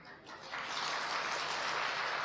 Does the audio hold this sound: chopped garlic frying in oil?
no